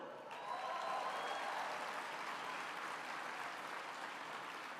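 Gala audience applause fills a large hall, a steady dense wash of clapping from many hands that holds evenly for several seconds, fairly distant and without speech.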